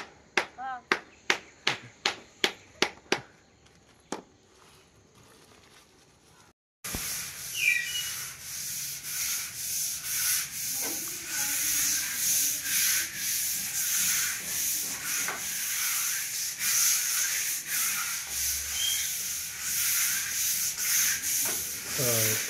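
Steady scrubbing on oil-stained kitchenware, a rough rubbing hiss that runs close and continuous over the later two-thirds after a few sharp knocks at the start, with faint voices in the background.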